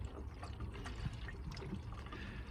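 Coolant poured by hand from a plastic milk bottle into the radiator of a Mercedes R107 SL, a soft continuous trickle and gurgle of liquid at close range.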